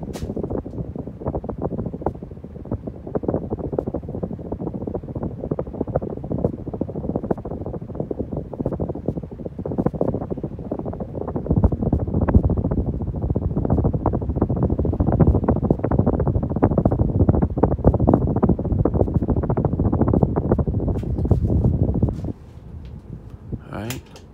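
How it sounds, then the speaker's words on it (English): A 52-inch Hunter Dimensions ceiling fan pushes air in a steady, broad rushing whoosh heard close up, swelling louder midway, then dropping abruptly near the end. "we'll bring it up closer when you hear the air movement"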